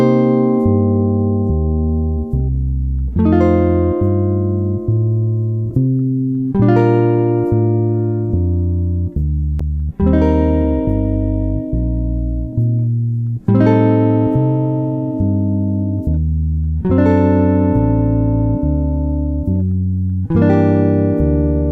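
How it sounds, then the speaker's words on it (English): Jazz guitar comping through the chord changes of a jazz standard, joined by a bass line; loud, steady strummed chords recur every couple of seconds, with no talking. "Let's have a listen to the same set of chords, only this time with a bass."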